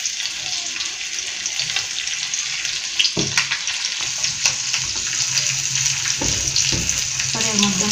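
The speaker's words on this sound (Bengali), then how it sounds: "কড়াইটা গরম হয়ে গেছে, তো কড়াই আমি মাছ ভাজা তেলগুলো দিয়ে দিলাম" Used fish-frying oil sizzles steadily in a hot wok for home cooking, a broad continuous hiss with a few soft clinks and faint scraping partway through.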